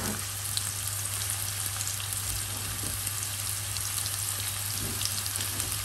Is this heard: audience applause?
no